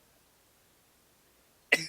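Near-silence broken at the end by a short, sharp cough close to the microphone.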